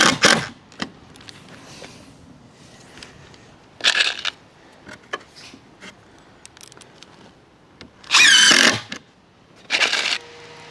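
A power drill drives screws into wooden gate slats from the back, giving three or four short, loud, high whirring bursts of about half a second to a second each, separated by quieter handling noises.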